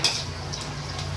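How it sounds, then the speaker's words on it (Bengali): Schezwan potatoes being stirred in a pan, a brief, quiet scrape and soft sizzle over a low steady hum, with no talking. "নাড়িয়ে দেওয়া হলো"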